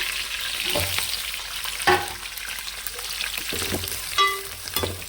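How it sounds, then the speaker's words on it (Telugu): Onions fry in hot oil for a drumstick sambar with a close, crackling sizzle, punctuated by a few sharper scraping and stirring clatters, with no one speaking. "చక్క ఇప్పుడు ఉల్లిపాయలు వేస్తున్నానండి"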